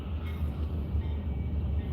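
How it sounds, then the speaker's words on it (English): A train rumbles past in Flagstaff, Arizona, heard from inside a parked car as a steady, low, continuous roar that holds for the whole stretch without any horn. "oh, here comes the train"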